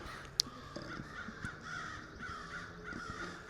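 Several crows caw repeatedly in short harsh calls, moderately near over faint outdoor background, with one sharp click early on.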